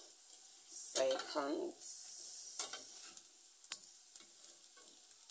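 Prawn crackers fry in a little oil in a pan, a steady faint sizzle with scrapes and light clinks as they are stirred and turned over, and a brief voice near the start.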